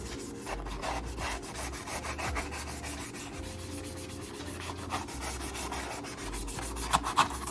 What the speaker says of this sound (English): that one clip that you just saw of me sanding down the mask